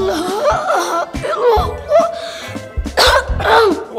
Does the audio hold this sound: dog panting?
no